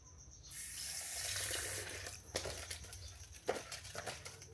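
Water poured into cats' food, a steady splashing stream for about two seconds, then trickling and a few soft drips and clinks of a bowl, close up and fairly quiet.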